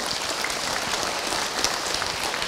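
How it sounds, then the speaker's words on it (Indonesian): Audience at an Indonesian talk on marriage applauds a woman who asked a question, with dense, steady clapping throughout the short stretch and no talking over it. "Tepuk tangan buat ibu yang bertanya."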